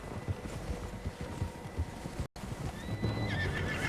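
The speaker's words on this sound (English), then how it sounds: "Horses, quite a few of them." Several horses in the Western video game Red Dead Redemption 2 neigh and whinny over a soft clip-clop of hooves, with one shrill whinny rising near the end and light wind underneath.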